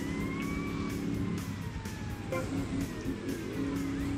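A wailing police siren in GTA Vice City sweeps up and down over a steady engine rumble, with a few sharp clicks and bumps mixed in.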